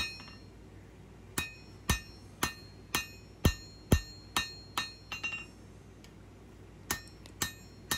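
A hammer strikes a small steel blade on an anvil during forging, making sharp ringing metallic blows at an irregular pace of roughly one per half second, loud and close against a quiet background.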